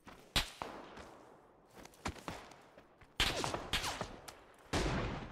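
Bursts of gunfire in the battle royale game PUBG: several sharp, loud shots and short volleys spaced irregularly over a few seconds, with faint rustling and movement between them.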